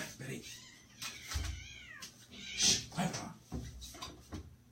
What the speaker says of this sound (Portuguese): Quase que minha gata derruba tudo aqui.